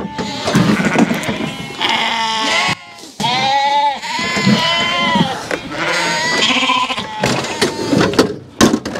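Sheep and lambs bleating loudly and close by in a livestock handling system on a farm, with overlapping drawn-out calls that continue almost without a break and a few metallic clanks near the end.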